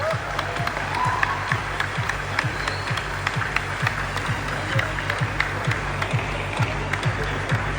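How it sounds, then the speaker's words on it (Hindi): Indoor audience at a company's 25th anniversary celebration in a hotel gives steady, full applause, many hands clapping close and continuously with a few louder claps standing out, lasting the whole stretch. "जोरदार तालियों से एक बार दिया जाए।"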